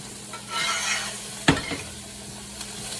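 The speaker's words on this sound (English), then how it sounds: "take that and all that butter now that has garlic in it. Just gonna kind of throw it on top." Garlic butter spooned over a ribeye steak in a very hot pan, sizzling steadily up close with a sharp clatter of utensil against the pan midway.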